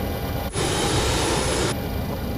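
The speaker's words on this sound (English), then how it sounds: "as this plane is extremely loud" Boeing 727 freighter jet engines in Microsoft Flight Simulator roar as a loud, steady broadband drone, swelling abruptly louder for about a second before settling back to a sustained rumble.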